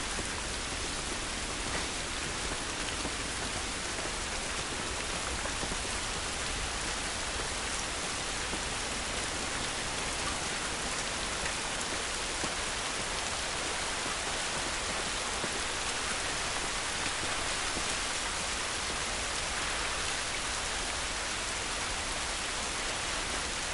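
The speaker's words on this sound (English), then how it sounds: "This rain ain't gonna do us any good." Steady, loud rain in The Last of Us, an even broadband hiss of downpour on surfaces that stays constant throughout with no speech.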